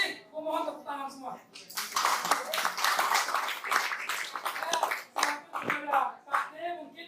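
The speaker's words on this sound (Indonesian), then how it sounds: "Mohon tepuk tangan semua." A short burst of clapping from a small group breaks out amid talking, with voices continuing around it.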